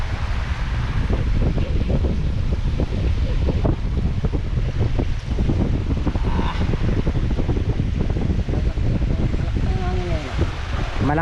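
Strong wind buffets the microphone by a boat at sea, with waves and surf rolling steadily throughout, loud and continuous, while voices talk faintly underneath.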